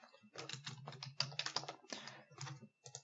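Typing on a computer keyboard: a close, quiet run of key clicks in quick irregular bursts with short pauses between them.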